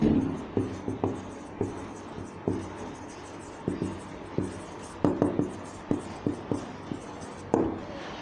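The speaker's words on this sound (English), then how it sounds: "let us write down the given first, okay, so we'll get an idea how to find the angles" Pen tapping and scratching on paper while the given facts of a circle geometry problem are written out, a steady series of short, close strokes and taps with brief pauses between them.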